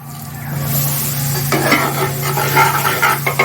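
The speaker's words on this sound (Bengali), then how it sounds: "তো এখন আমি তেলের মধ্যে দিয়ে দিচ্ছি।" Ground chilli, coriander, black pepper and turmeric hit hot oil and are stirred for a chicken rajma curry, giving a steady close sizzle with scraping and stirring clatter that grows busier partway through.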